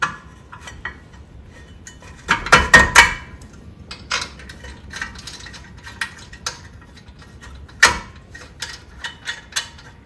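A hand ratchet clicks in short bursts while a top brake bracket bolt is tightened on a Nissan 350Z rear brake, a loud cluster of quick clicks then sparse lighter ticks and clanks nearby.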